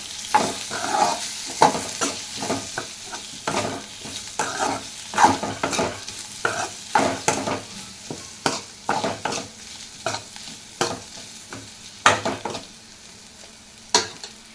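Goat tripe (boti) frying in a pan with chili powder, the sizzle running beneath repeated sharp scraping stirs of a spatula at an uneven rhythm, close and fairly loud.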